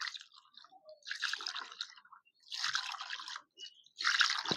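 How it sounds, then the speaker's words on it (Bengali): Vinegar-curdled chhana squeezed by hand to press out excess water, soft wet squishes and drips in three short clusters with brief silences between, close and quiet. "হালকা হাতে চেপে চেপে এক্সট্রা জলটা বের করে নেব।"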